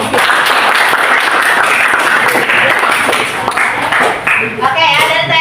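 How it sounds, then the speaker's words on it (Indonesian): Audience applause fills a classroom after a student's presentation in a teacher-training lesson, a dense, steady patter of clapping throughout, with some voices mixed in and a brief trailing tone near the end. "Tepuk tangan."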